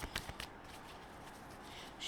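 Tarot cards are shuffled by hand, a quiet, close riffle with a few crisp flicks at the start and then a soft continuous rustle.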